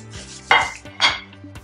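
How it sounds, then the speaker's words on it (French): Two soft splashing, sliding thumps as chicken tips into a metal saucepan, with a faint steady hum underneath. "je vais verser le poulet dans la casserole"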